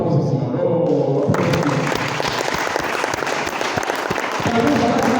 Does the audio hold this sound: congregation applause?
yes